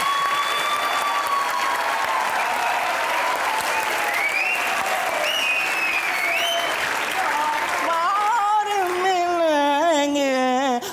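Studio audience applause on a Pakistani comedy talk show, steady and loud throughout, with a voice and musical tones rising over the clapping toward the end.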